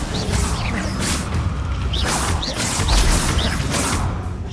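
The Incendio fire spell in Hogwarts Legacy bursts out as a loud run of whooshing, crackling blasts, several surges in quick succession over a dense, rumbling game soundscape.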